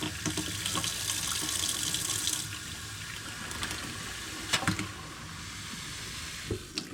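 Hot water gushes steadily from an RV faucet during winterizing, a loud hissing splash that eases after a couple of seconds into a softer stream, broken by a few sharp knocks.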